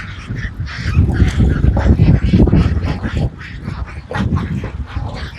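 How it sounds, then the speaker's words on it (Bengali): A crowd of ducks on a duck farm quacks loudly and close, many overlapping nasal calls in a dense chorus that dips briefly before carrying on, with no talking. "হাঁস আর হাঁস"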